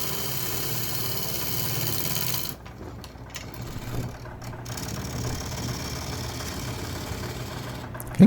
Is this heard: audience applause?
no